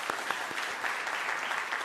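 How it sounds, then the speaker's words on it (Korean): A church congregation at a Sunday worship service breaks into short, steady applause, a full wash of clapping heard on its own for a couple of seconds. "박수로 격려하겠습니다"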